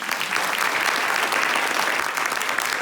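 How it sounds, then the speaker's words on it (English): A theatre audience applauds steadily, a dense, even wash of clapping sustained at constant loudness across the whole short stretch. "I think he'd be a little miffed if there is no round of applause for"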